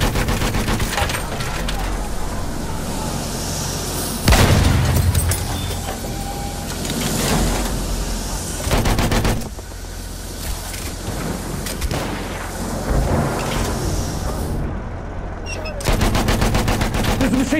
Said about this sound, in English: There's a machine gun.